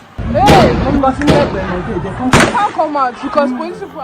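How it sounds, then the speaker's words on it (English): Several sharp gunshot-like bangs ring out over a noisy scene with voices, each crack trailing off in an echo. "Sounds of gunshots echoing."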